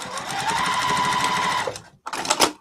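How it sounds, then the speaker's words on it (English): Domestic sewing machine stitching a pillowcase, a steady close whirring run of rapid needle strokes that slows and stops, followed by a brief burst of handling or backstitching noise. "The one thing I didn't say out loud is to backstitch at the beginning and the end."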